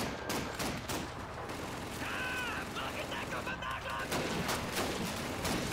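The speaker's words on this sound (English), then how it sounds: "Oh my god, I have a machine gun in front of me." Dense machine gun fire rattles through a Call of Duty 2 battle in Russia, rapid bursts stacking with distant gunfire and explosions, loud and continuous throughout, with someone talking over it.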